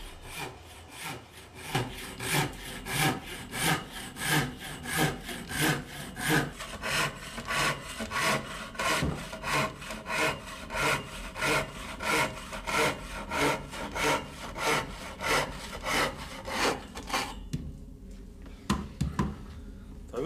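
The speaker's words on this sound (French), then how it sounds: "Même mouvement que la scie de long." A hand saw cutting wood at a workbench in steady back-and-forth strokes, rhythmic and close, stopping near the end with a short clatter.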